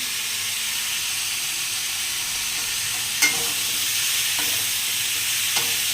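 Ridge gourd, potato and chillies sizzle steadily with onions in a hot pan, with a few sharp scrapes and clinks of a utensil stirring.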